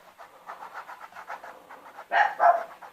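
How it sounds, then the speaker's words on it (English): A pet dog pants rhythmically and steadily in the background at moderate level, then gives a couple of louder bursts that sound like short barks or heavier panting near the end, with no talking. "if you hear my dog barking in the background out there"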